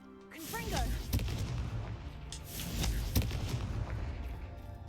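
A Confringo fire spell goes off in Hogwarts Legacy, a short spoken word followed by booming, crackling blasts and a second heavy impact, all rumbling with game effects while a voice talks briefly at the start.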